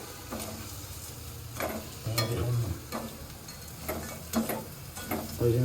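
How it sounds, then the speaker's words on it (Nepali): Instant noodles and masala are stirred together in a pan over low gas, soft sizzling running beneath repeated scraping strokes of the utensil, spaced about a second apart. "सानो ग्यास बनाएर हामी चाउचाउ र मसला मिक्स गर्छौँ।"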